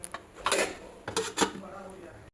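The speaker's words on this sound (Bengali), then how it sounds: "পোস্তটাকে আমি ঢাকা দিয়ে দিই" A lid set over a pot of simmering poppy seed curry, with a few close metallic knocks and clinks in short bursts against a faint background hiss.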